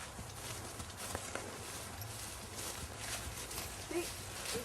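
A horse, hard to bring into a trot, clip-clops with uneven, faint hoofbeats over a soft background, a few strides at a time.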